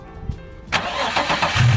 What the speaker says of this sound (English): every morning when I start this car and the car's actually cold, the AC belt squeaks a little bit